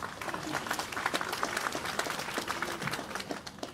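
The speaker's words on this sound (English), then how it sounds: "So please give a big round of applause for this." Steady applause from a crowd at a university lecture, dense clapping that holds for several seconds at moderate loudness without a break.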